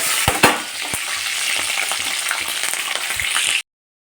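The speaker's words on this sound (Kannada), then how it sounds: "ಎಣ್ಣೆಯಲ್ಲಿ ಚೆನ್ನಾಗಿ ಈ ಥರ ಹಸಿಮೆಣಸಿನ್ಕಾಯಿ ಚೆನ್ನಾಗಿ ಡ್ರೈ ಆಗಬೇಕು" Green chillies fry in hot oil with mustard seeds for lemon rice, a loud, dense, close sizzle with occasional pops and spatters that cuts off abruptly near the end.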